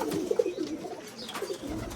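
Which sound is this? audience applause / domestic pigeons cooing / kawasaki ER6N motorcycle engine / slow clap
domestic pigeons cooing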